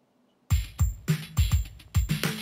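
A crunchy bit-crushed drum beat with no stereo widening, so it sits flat and mono-like. About nine punchy hits land in a steady groove with harsh, gritty highs, starting after a short silence.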